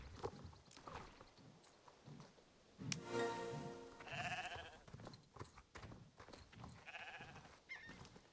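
Sheep bleat several times in the video game Star Stable Online, repeated bleats rising over a busy backdrop of clopping hooves and ambient game sounds.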